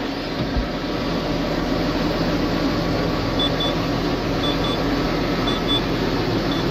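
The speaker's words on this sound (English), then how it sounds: "That's the brakes, the air brakes beeping there." A tractor's air brake warning gives short, high electronic beeps repeating in pairs over the steady drone of its idling engine, close and fairly quiet.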